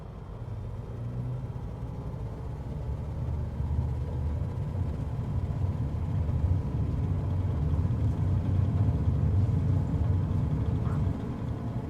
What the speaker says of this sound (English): As I said, this plane is unfortunately a little bit noisy.